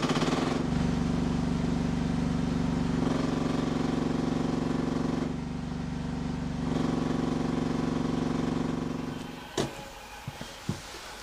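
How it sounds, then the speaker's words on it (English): A mini excavator fitted with an auger drones with a steady, loud engine as it slews around, the note dipping briefly midway before cutting out, followed by a few sharp metallic clunks, with no talking. "Let's see if it actually turns around with the auger on."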